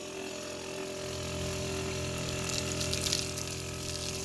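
Water pumped in to refill the water tank on a 2019 Toyota Tacoma camper build, a steady rushing flow over a constant motor hum, close and even throughout, no talking.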